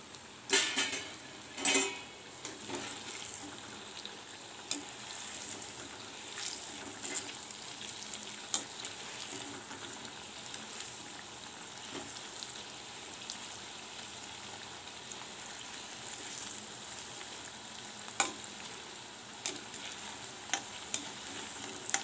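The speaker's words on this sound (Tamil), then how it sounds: "இது போல் பொறிச்சு எடுத்து நம்ம சாப்பிட வேண்டியது தான்" Dosa batter bondas deep-frying in hot oil, a steady close sizzle with fine crackling and occasional louder pops running throughout.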